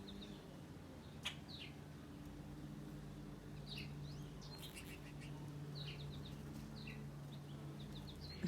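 Small birds chirp and twitter at a thistle seed feeder outdoors, short high calls scattered throughout over a steady low background hum, moderately faint and fairly distant.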